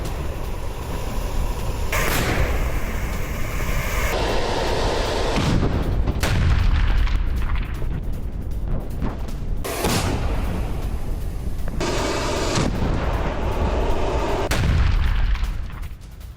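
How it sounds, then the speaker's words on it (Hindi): Russian artillery shelling in Avdiivka, Ukraine: a string of loud, close booming blasts with sharp onsets at irregular intervals, each rolling into a broad rumble over a continuous heavy background roar, with no voices. "अवदीवका में रूसी आर्टिलरी का एक्शन। गोलाबारी में यूक्रेन का अब्राहम्स टैंक तबाह हो गया।"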